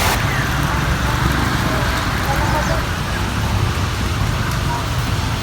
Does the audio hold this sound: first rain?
yes